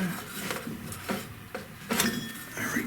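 Metal-on-metal clinks and a few ratcheting clicks from a wrench working a bolt loose on a 1930s Delta DP-220 drill press, close and intermittent with short pauses between turns.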